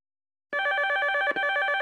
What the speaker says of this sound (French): Sois gentille, ma chérie, réponds au téléphone.